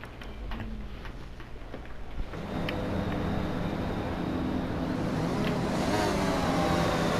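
A Formula 1 race car in a video game launches off the starting grid, its engine note jumping from a steady idle into a loud, rising roar that keeps building, with no talking over it.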